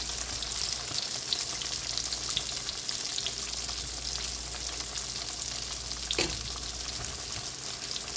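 Brinjal pieces fry in a pan on a low flame, giving a continuous close sizzle with light crackle, and a brief scrape or tap partway through.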